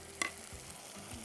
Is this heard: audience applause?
no